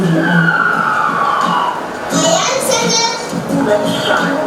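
An ambulance siren wails in rising and falling sweeps, loud and close, while voices talk over it.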